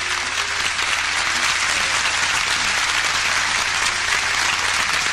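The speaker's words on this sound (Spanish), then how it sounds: "El aplauso bien bonito para Don Luis y para su papá" Loud, sustained applause from a concert audience at a ranchera show, a dense continuous roar of clapping with no voices standing out.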